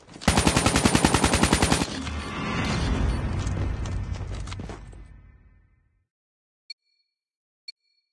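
Rapid automatic gunfire from a gunfight in the video game Gulang, a loud close burst of fast regular shots that gives way to a rumbling, fading tail, followed by two short sharp clicks near the end.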